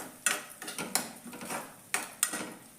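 A spatula stirs potato curry with spring onion in a metal pan, giving a series of scraping clatters and taps in an irregular rhythm, close and fairly clear, with no talking.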